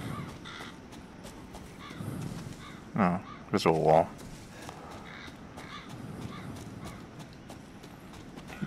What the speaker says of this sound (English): Man, they're just birds, dude.